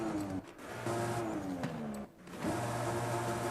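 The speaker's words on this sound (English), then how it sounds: "as you can hear, each exhaust just slightly different" A 2020 Toyota Supra with a single-turbo build in Forza Horizon 5 revs its engine in repeated rising pulls, the exhaust note dropping briefly between bursts, moderately loud with no voices.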